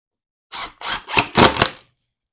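Short bursts from a power driver screwing a bench top down from the underside in a shed, four quick whirring runs in a row, close and loud with silence before and after.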